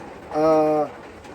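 A racing pigeon gives one brief, close, low coo, heard alone with only faint background noise.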